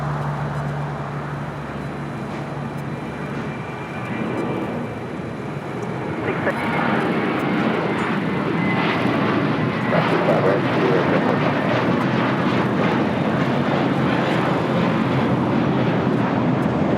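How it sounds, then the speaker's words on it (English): A JetBlue Airbus A321 rolls down runway 25 Right at LAX for takeoff, its engine roar swelling from a steady rumble into a broad, loud, sustained roar in the open outdoors, with a voice talking over it. "we got that JetBlue A321 now rolling down to 25 right"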